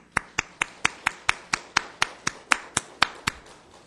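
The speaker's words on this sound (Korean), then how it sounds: "그런 의미로 찬양대회한테 박수를 한번 주세요." A church congregation claps for the choir in slow unison, with a dozen or so evenly spaced, sharp claps in a steady rhythm, fairly faint and heard alone.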